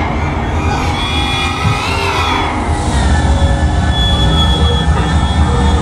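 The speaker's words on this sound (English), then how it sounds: "So my juice train is going while his is ripping at track speed." A freight train in a Roblox Florida East Coast railway simulator game rolls along with a loud, steady rumble and drawn-out wheel squeal, joined by tonal engine hum that rises and shifts.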